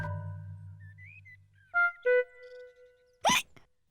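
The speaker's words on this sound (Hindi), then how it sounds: "जॉर्ज को अभी भी हिचकियां आ रही हैं।" A cartoon piglet hiccuping in a Peppa Pig episode set at a school fete, one sharp, loud, squeaky hiccup near the end, preceded by whistles and musical tones.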